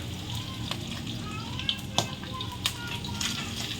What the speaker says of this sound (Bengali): এখন আমি মাছটা ভাজা হয়ে গেছে তুলে নেবো